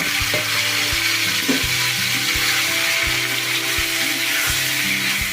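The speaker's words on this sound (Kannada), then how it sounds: "ಇದೆಲ್ಲ ಹಸಿ ವಾಸನೆ ಹೋಗೋವರೆಗೂ ಉರಿಬೇಕು ನೋಡಿ" Tomatoes and Byadgi chillies fry in a pan with a constant loud hiss of sizzling oil, broken by regular low thumps and scraping taps from stirring, no talk.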